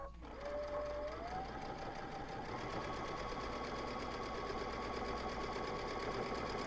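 A sewing machine runs steadily while top stitching along the upper edge of a fabric tablet case, a continuous close whirring hum with rapid needle rhythm throughout.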